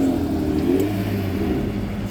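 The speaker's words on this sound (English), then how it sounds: "all the cars started pulling up" Several cars pull up at an outdoor car meet, their engines rumbling low and steady nearby with a brief rev, a continuous blended drone without talk.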